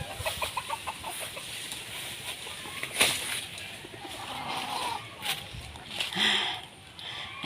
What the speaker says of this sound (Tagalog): ang alagang manok ng aking anak.